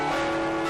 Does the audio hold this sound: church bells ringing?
yes